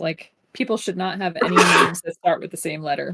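A single sneeze bursts out mid-conversation, loud and close, wedged between stretches of people talking.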